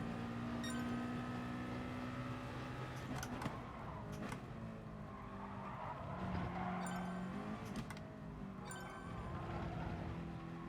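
Racing car engine in Gran Turismo Sport revved out during FIA practice, a steady loud drone with rising and falling pitch and sharp surges, tire noise mixed in throughout.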